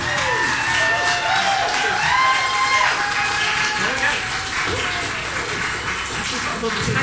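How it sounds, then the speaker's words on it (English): A concert audience applauds a female singer named Sharon after her performance, with steady dense clapping and crowd noise sustained throughout. "give her another big round of applause for Sharon"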